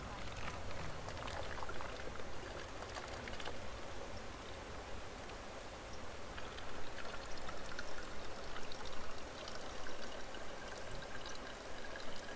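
Water pours steadily from a Be Free filter bag on a trail, a continuous splashing stream heard up close, with no squeezing pauses, for about twelve seconds.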